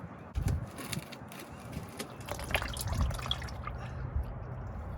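Engine oil drains steadily from a 2021 Toyota Tacoma TRD Off Road during its first oil change, a continuous close trickle and dribble with occasional louder splashes.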